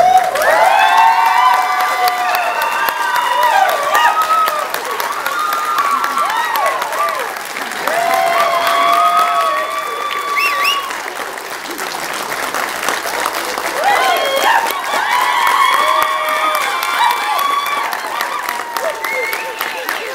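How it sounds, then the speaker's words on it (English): Wedding guests applaud and cheer loudly after the newlyweds' kiss, with sustained clapping, whoops and shouting voices in waves across a large crowd. "I've never seen a crowd cheer so much"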